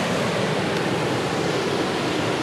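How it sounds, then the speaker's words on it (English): A waterfall roars as a dense, constant rush of falling water heard from a lookout in Ferris Provincial Park, loud and steady with no pauses. "we're standing at the bit of a lookout here for the waterfall"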